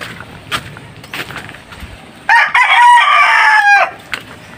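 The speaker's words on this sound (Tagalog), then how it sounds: "Tumilaok si Utlom." A red junglefowl rooster crows once, loud and close, a long strained call standing out over quiet farmyard background sounds.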